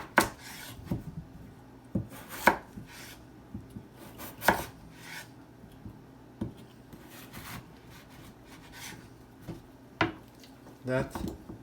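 Knife chopping potatoes into wedges on a board, a series of sharp, close cuts coming at irregular intervals with quiet pauses between them, alone in a quiet kitchen.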